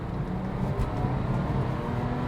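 Porsche 997 fitted with a sports exhaust, driven on wet roads, gives a steady, dense low drone that holds an even level throughout with no voices.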